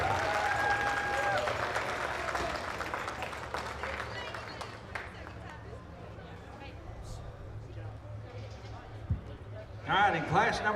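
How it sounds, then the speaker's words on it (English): Audience at a school livestock show ring for sheep and goats applauds young exhibitors as they lead their animals out, a moderate, fairly distant clapping under an announcer's voice, with a louder burst near the end. "Let's please applaud these young people as they exit the ring."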